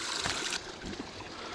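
Along the Pacific Crest Trail, a small water source trickles and burbles softly nearby, with a brief brighter splash at the start before settling into a steady gentle flow.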